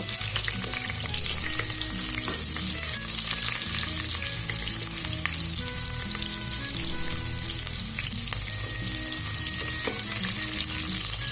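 Onion sautéing in a pan for chicken liver adobo gives a loud, dense, continuous sizzle with occasional stirring scrapes, close up and without speech.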